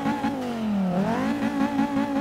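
A 1997 Volvo 850R engine in Forza Motorsport 6 hums steadily at idle, its tone dipping and then rising again with a slight rev, loud and close with no talk over it.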